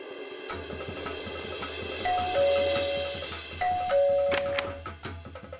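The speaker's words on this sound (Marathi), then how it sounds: "तुमची बेल एकदम खडखडीत आवाज करते" An electronic doorbell in a home rings twice with a clear two-tone ding-dong, each chime ringing out prominently over quiet room noise.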